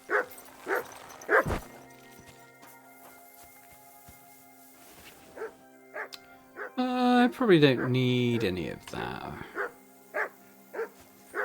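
A dog barks repeatedly in the medieval RPG Kingdom Come: Deliverance 2, with short sharp barks near the start and a longer run of excited barks and yips in the middle, amid a man's speech.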